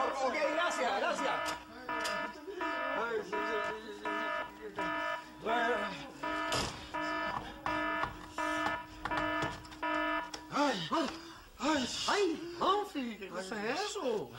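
A household alarm rings in repeated electronic bursts, a regular beeping pattern that pauses midway and then resumes, while people talk and exclaim over it.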